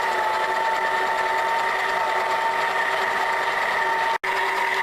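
A stand mixer runs steadily at speed 3, beating flour, sugar, salt and butter into fruit tart dough, a continuous close whirring hum that cuts out for an instant near the end.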